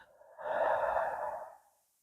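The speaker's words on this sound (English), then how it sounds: "And then when you breathe out," A slow, gentle exhale during a guided relaxation meditation, a soft breathy rush swelling for about a second and then tapering away into near silence, close and quiet with no talk over it.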